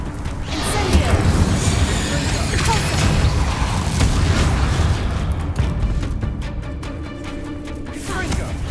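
Incendio fire spell cast in the game Hogwarts Legacy, a roaring burst of flame amid dense, continuous combat noise with booms, crashes and clattering mechanisms, loud throughout.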